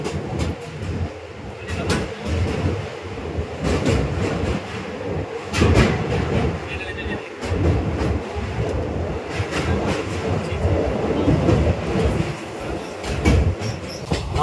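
Kanchenjunga Express passenger train running on rails through West Bengal near Tildanga station, heard from inside: a loud continuous rumble with rhythmic clickety-clack wheel beats and occasional metallic knocks, no talking.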